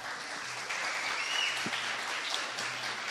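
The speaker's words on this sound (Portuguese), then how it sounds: "salve de palmas para ele" Steady audience applause at a talk on generative artificial intelligence, continuous, dense clapping filling the whole moment at moderate level with no voices on top.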